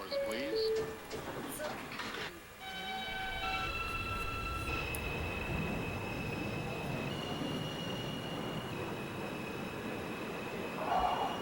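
Express subway train in the OpenBve train simulator game, a steady rumbling ride with sustained wheel squeal and whining motor tones, plus some clanks early on, and a voice talking over it.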